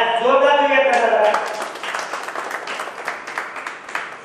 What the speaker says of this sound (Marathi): टाळ्या जोरदार देऊया त्यांना जरा